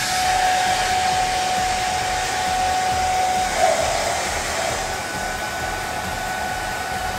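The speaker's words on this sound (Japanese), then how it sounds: "じゃあ乾かしていきます。" A hair dryer blows on someone's hair with a steady, even whooshing roar and a faint whine, close and continuous, with no voices.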